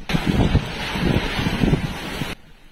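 Strong wind gusts roar continuously during a violent hailstorm in Puglia's Valle d'Itria, a loud, rumbling buffeting that fills the air before cutting off abruptly near the end.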